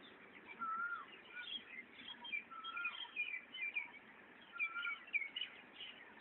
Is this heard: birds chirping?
yes